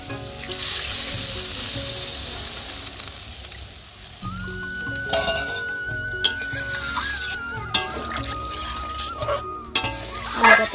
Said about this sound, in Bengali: মশলাটা দিয়ে তারপরে আমি একসঙ্গে আলু আর ডিম কষিয়ে দিচ্ছি।